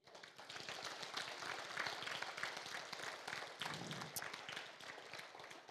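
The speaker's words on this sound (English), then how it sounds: "We'd like to give a big, big round of applause to her" An audience in a conference hall claps after an opening keynote, a continuous patter of many hands that sounds faint and distant, holding steady throughout.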